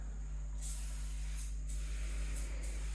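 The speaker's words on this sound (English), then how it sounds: "we give that a spray. That's just canola oil." A can of canola oil cooking spray hisses in the kitchen in three short bursts over a low steady hum.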